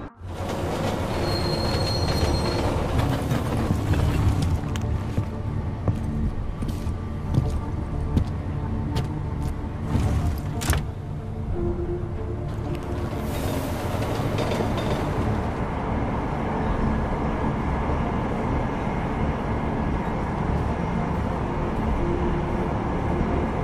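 A train in the video game Deus Ex: Mankind Divided rumbles steadily along its rails, with rhythmic wheel clatter and a sustained metallic squeal of wheels, loud and close throughout, swelling in a bright screech near the middle.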